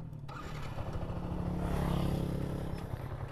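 Motorcycle engine running on a drag race test ride, a steady droning rumble that swells in the middle and then eases, heard at moderate distance with no voices.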